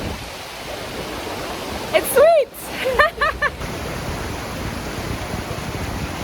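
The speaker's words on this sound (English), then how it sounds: "I didn't expect the Nakuru Fall to be so high and pounding, perhaps because it's the rainy season now" The Nakuru Fall, high and pounding in the rainy season, sends up a steady broadband roar of falling water. A voice briefly calls out over it in the middle.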